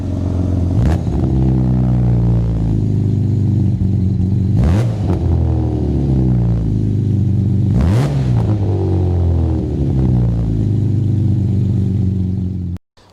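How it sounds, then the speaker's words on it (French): A powerful six-cylinder car engine revs loudly and continuously, with several sharp rising throttle blips spaced a few seconds apart over a steady deep rumble, cutting off abruptly at the end. "Un beau bruit de 6 cylindres."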